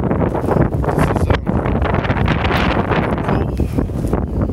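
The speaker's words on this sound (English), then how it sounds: "man, is that wind really kicking it" Strong Antarctic wind buffets the microphone in loud, roaring gusts, a continuous rushing blast with brief dips between surges.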